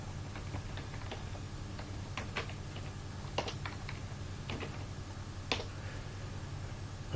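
An account name is typed on a computer keyboard: quiet, close key clicks tap out in short irregular runs over a steady low hum, with no talking.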